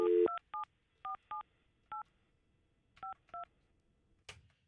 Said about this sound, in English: Hang on, let me get Max on the phone, because we got to figure this out